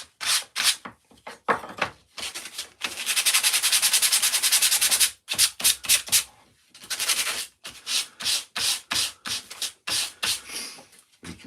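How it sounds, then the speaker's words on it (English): Sandpaper rubbed over a wood carving in close, rapid bursts of scratchy strokes, with one long sustained stretch of steady rubbing midway before the short strokes resume. "use this little bit of sandpaper."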